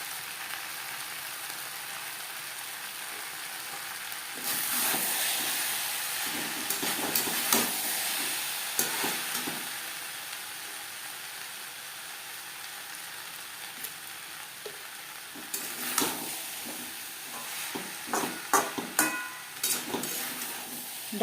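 Drumsticks and potato pieces stir-frying in a pan over a high to medium flame, a steady soft sizzle with intermittent scraping and stirring clatters throughout, no talk.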